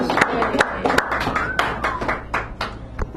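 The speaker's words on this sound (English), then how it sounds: "Give him a nice round of applause, please." A cafe audience at a poetry reading claps for the next reader, with sharp, uneven handclaps and some nearby talk mixed in.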